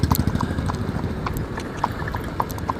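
Horse hooves clip-clop on a road in a steady, quick rhythm of clear knocks over a dense background rumble, moderately close throughout.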